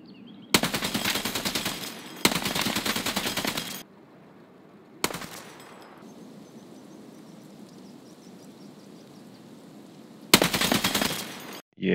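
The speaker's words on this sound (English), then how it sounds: "Let me present you the NSV UTOS heavy machine gun." The NSV Utes heavy machine gun fires in the game Tarkov: four long, loud, rapid-fire bursts separated by quiet stretches with a faint ambient background.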